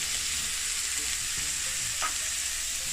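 Asparagus dropped into a pan with blended seasoning, a close, even hiss of frying with a couple of faint taps, no talking.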